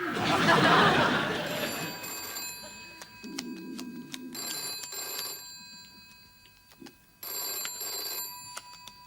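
An old-style telephone bell rings in a TV sitcom scene, sounding in three separate bursts of bright metallic trilling with pauses between them, after a noisy stretch of what seems to be studio audience laughter at the start.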